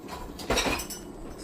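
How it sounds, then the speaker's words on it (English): A fork scoops boiled organic durum wheat spaghetti out of a cooking pot, giving one brief scrape and clink of metal against metal near at hand, with no talk. "I'm just going to use the fork to scoop it out."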